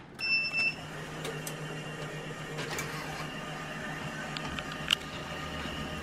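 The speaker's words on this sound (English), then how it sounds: "I'm going to turn on the printer in the back." A DTF printer powering up in a workshop, giving a steady mechanical whir with a few faint electronic beeps and clicks, heard at a moderate distance with no talking.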